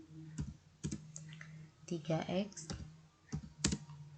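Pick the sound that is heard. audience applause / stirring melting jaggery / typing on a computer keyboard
typing on a computer keyboard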